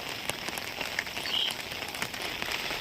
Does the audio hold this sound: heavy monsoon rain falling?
yes